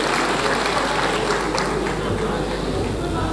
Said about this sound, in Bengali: রাসেল ভাইয়ের জন্য একটা হাততালি দিবেন সবাই।